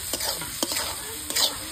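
Fried potato and pointed gourd stirred into masala sizzling in oil, a brief close burst of frying hiss with three sharp spatula scrapes against the pan.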